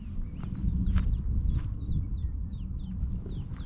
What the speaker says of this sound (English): oh look at this, there's some duck with the chicks